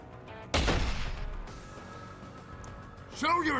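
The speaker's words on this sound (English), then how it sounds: "Shotguns, eh?" A single loud shotgun blast in the video game Deus Ex: Human Revolution bursts out abruptly and rings off, followed by quieter game ambience and a voice near the end.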